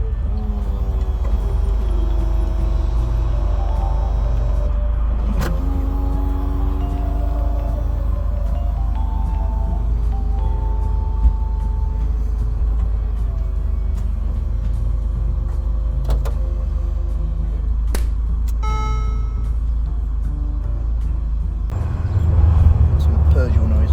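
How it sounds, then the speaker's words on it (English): A small Peugeot convertible makes a low, steady engine rumble the whole time, joined by electric motor whines that rise and fall and by occasional mechanical clicks and clunks. "Some Peugeot Noises."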